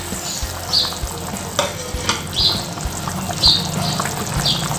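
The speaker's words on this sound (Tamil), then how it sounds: "இப்போ நம்ம பக்கோடா உள்ளே சேர்த்துக்கலாம்." Pakoda pieces going into a bubbling coconut kulambu, with a steady simmering sizzle, soft plops and a spoon scraping and stirring a few times, heard up close.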